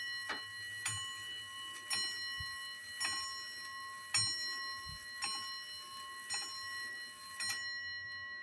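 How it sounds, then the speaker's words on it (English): An experimental prototype bell strike clock chimes alone, ringing about seven evenly spaced, resonant bell strokes roughly once a second, each leaving a long sustained ring, recorded close and clear. "experimental prototype of a bell strike clock."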